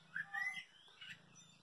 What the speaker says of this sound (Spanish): Oigan los pajaritos